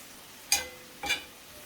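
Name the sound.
stirring food in a pot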